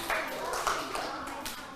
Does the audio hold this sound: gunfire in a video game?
no